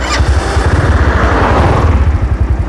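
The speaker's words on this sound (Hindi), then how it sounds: "और आप लोग देख सकते हैं इसके इंजन की साउंड बहुत ही स्मूथ है।" A Unique UD100cc motorcycle engine idles close by with a steady, rapid low putter, loud and even throughout with no talking.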